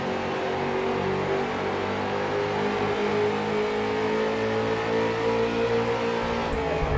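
Late-model stock cars racing at Richmond Speedway in an online sim-racing series, a steady blend of engines droning and revving as the pack runs together, loud and continuous throughout with no commentary.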